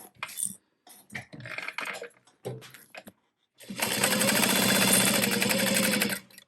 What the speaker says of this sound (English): And then we can top stitch.